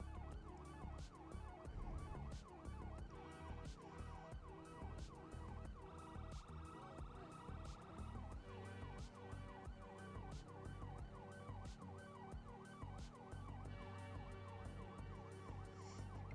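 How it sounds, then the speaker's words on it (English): Wailing police sirens in the video game FivePD cycle over and over alongside background music and engine hum, a busy, layered mix with no talking. "My sirens with the music kind of sounds pretty cool."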